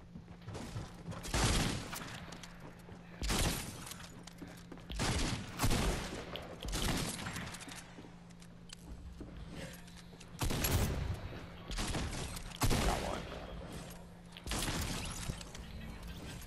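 Shotgun blasts from the video game Fortnite, about eight loud, broadband bursts spaced a second or two apart, each with a short decaying tail over a steady low hum.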